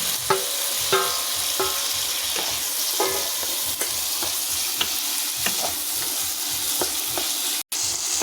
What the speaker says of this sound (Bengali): ভালো করে মিক্সড করে নেব আলুটা কষে নিয়েছি